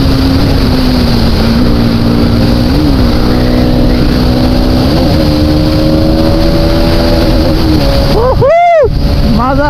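A motorcycle engine held at high revs in fourth gear drones loud and steady, its pitch creeping upward, with heavy wind buffeting the microphone and a brief surge near the end.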